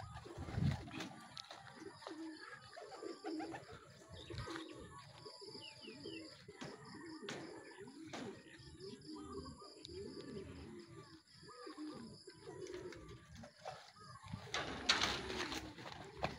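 Racing pigeons returning from a training flight coo in soft, repeated throaty bursts near the loft, mixed with scattered chirps and rustling, fairly quiet and irregular.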